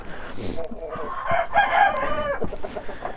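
Liven-breed roosters crow in a farm flock in winter: one long, loud cock-a-doodle-doo rises in the middle, amid clucking and other fowl calls close by.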